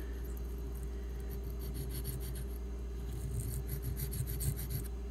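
A Barlow pocket knife with 1095 steel blade, taped at the bolster, is drawn across a sharpening stone, giving steady close raspy rubbing strokes under a low constant hum.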